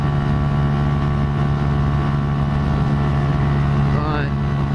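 A car engine holds a steady loud drone with a constant low hum while overtaking another vehicle, and a brief rising whine comes near the end.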